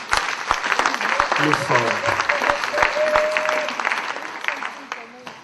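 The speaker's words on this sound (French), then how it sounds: "Acclamons le Seigneur Jésus-Christ." Congregation applauding and cheering at a church service, a dense burst of clapping from a crowd mixed with shouts, with voices talking over it throughout.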